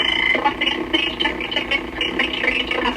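A broken train speaker at Penn Station crackles out a dry, harsh, distorted announcement, close and steady for a few seconds, with garbled voice-like bursts and no clear words.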